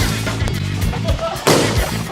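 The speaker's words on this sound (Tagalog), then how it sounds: "Okay guys, so next game na tayo and balloon popping." Balloons burst during a team balloon-popping party game, sharp loud pops over a noisy background of excited voices and shouting, with a strong bang near the end.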